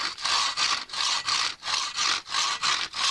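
A freshly sharpened hand saw cuts in steady back-and-forth strokes, about eight even, rasping passes in three seconds. The sawing is close, loud and alone, with no talking.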